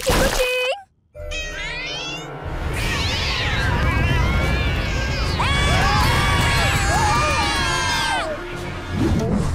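Meows from an animated cartoon cat ring out clearly and loudly, with several drawn-out calls, against a busy background of crowd and cheering noise.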